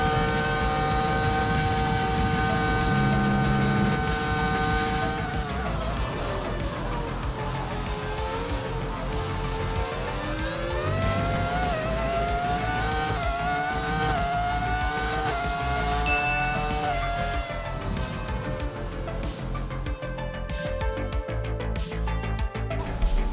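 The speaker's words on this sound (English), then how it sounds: "the F2004 felt surprisingly stable around Suzuka" A Ferrari F2004 Formula 1 car screams around the Suzuka circuit, its high engine note rising and falling through gear changes and corners, loud and continuous.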